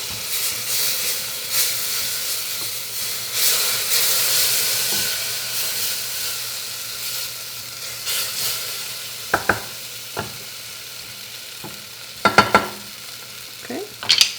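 Ingredients for a German chicken pot pie being slowly added to a pot and stirred, with a continuous soft sizzle and hiss and a few sharp scraping clinks of the utensil against the pot near the end.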